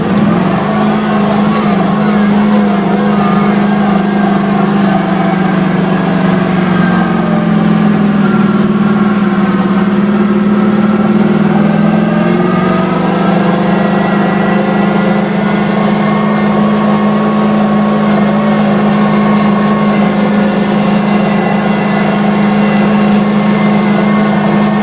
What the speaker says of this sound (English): so I'm actually having my neighbor Roger come over to blow it out with his blower